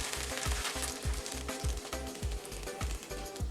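Egg and Buldak noodles frying in a hot pan on medium heat, a steady close sizzle with a rapid repeating pulse of crackling pops.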